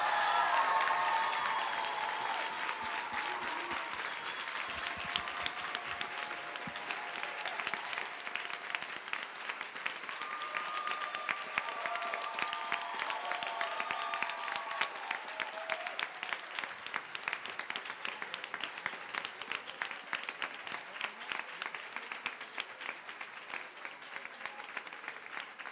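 An audience at an awards ceremony applauds at length, a dense, sustained patter of many hands clapping from a moderate distance, with scattered cheers and faint voices mixed in.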